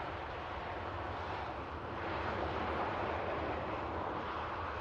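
Steady broadband roar of aircraft engines at Manchester Airport's Runway Visitor Park, a continuous distant rumble that swells slightly halfway through with no talk over it.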